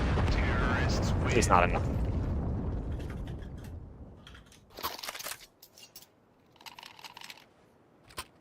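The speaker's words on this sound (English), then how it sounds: "that bomb explosion is not going to reach him here." A bomb goes off in a Counter-Strike 2 esports match, giving a loud booming blast that rolls off into a fading rumble, followed by scattered clicks and small game sounds while a commentator speaks over it.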